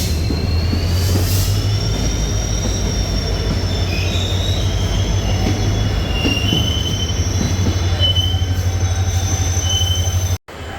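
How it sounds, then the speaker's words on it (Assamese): A train pulling into a station on the Hojai to Guwahati line, its wheels squealing in long high-pitched whines over a steady low rumble, loud and close for about ten seconds before cutting off abruptly. "সো গাইজ আমাৰ ট্ৰেইন আহি আছে।"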